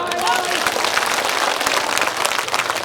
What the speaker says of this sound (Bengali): সবাই একটা জোরে করতালি